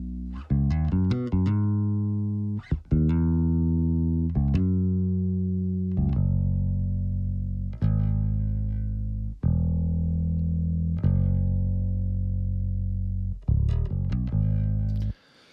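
A sub-heavy electric bass guitar track plays alone from a mix, with deep sustained notes ringing steadily and a few quick plucked runs between them, loud and close.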